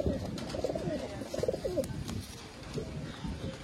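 Pigeons coo in a steady run of soft, low, throaty phrases, close by and alone, with no talk, in a bird-selling setting in Bangalore.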